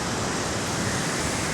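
Ocean waves wash onto a beach near a village in Goa, a loud, continuous broadband roar of surf with no break and no voices.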